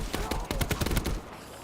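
Rifle fire in Black Ops 3 zombies mode, a rapid burst of sharp shots in quick succession for about a second, loud and close, before giving way to a quieter background.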